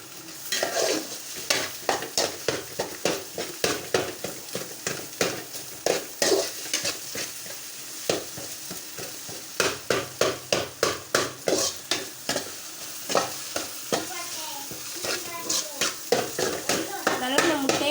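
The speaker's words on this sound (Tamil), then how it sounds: "முட்டையை நான் நல்லா என்ன பண்ணிக்கிறேன், கிண்டிக்கிறேன். அடி பிடிச்சிடக்கூடாது" Egg being stirred and scraped in a hot pan for egg rice, a steady run of rapid spatula strokes over continuous frying sizzle, close and fairly loud throughout.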